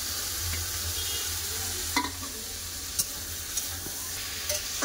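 Cut potatoes tipped into a pan of frying tomato masala and stirred, giving a steady sizzle with a low hum beneath and several sharp clicks of a spoon against the pan.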